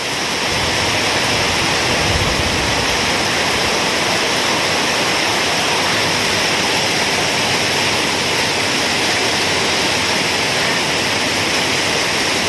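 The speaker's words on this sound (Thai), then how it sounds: "ดูน้ำไหลนะคน้ำไหลมาแรงมาก ไหลมาจากนู่นนะครับ" Powerful rushing floodwater from a heavy storm roars continuously and loudly, a dense, unbroken torrent with no pauses or voices.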